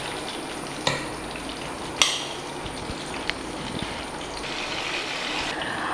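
Fish fries in a pan as a steady hiss of hot oil sizzles throughout, with a few sharp clicks and taps of a utensil against the pan, close and moderately loud.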